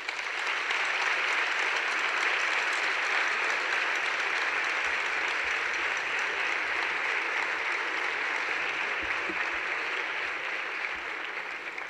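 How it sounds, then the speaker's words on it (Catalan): A crowd applauds musicians at a folk song and dance gathering, dense continuous clapping that stays loud and even from start to finish without any break. "A tots ells, un fort aplaudiment."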